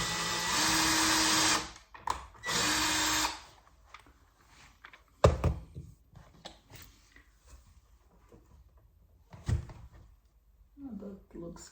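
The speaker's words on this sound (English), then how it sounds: "And then I will pre-drill." A power drill pre-drills a hinge hole in a headboard door under a sloped ceiling, running in two loud, close bursts of about a second each, followed by a few scattered thunks and handling knocks in a quiet room.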